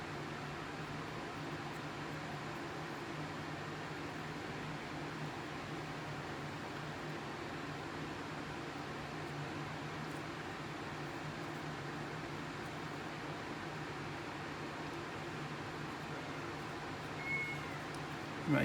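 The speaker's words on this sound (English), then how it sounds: "Hopefully the fan in the background isn't too loud." An electric fan whirs steadily in a hot room, a constant low, soft hum and airy hiss that holds even throughout with no talking.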